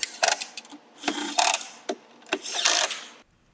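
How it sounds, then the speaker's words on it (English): A ratchet wrench turns 10mm nuts to fasten a tow mirror onto a 2007-2014 Silverado or Sierra truck, giving several bursts of quick clicking with short pauses in between, close and fairly quiet. "While supporting the mirror, screw in the three 10mm nuts that hold the mirror to the vehicle."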